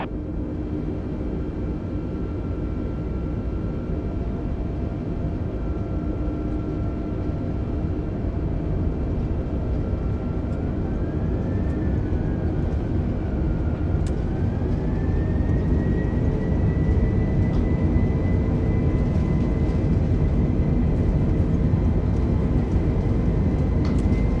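Airliner jet engines spooling up on the takeoff roll in Microsoft Flight Simulator, a loud, continuous roar with a rising whine that swells steadily and runs alone throughout.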